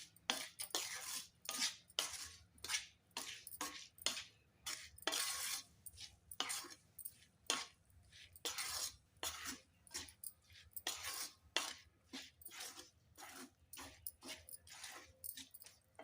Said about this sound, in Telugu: ఇప్పుడు ఇందులో ఉల్లిపాయ ముక్కలు కూడా వేసుకుందాం ఇవన్నీ కలిసేటట్టు ఒకసారి కలుపుకొని